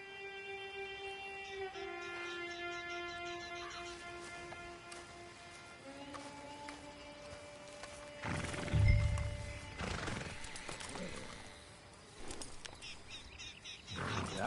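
A horse whinnies in Red Dead Redemption 2 with drawn-out tonal neighs, then a burst of heavier thumps and hoof clatter follows. Game ambience runs quietly underneath.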